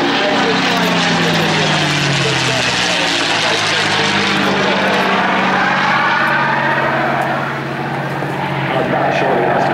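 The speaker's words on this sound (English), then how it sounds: "The Mustang pulls away over the swimming pool, over the castle, and straight up." A P-51D Mustang fighter's piston engine roars loudly and continuously during a flypast at Jersey, the pitch sliding down as it passes and pulls away.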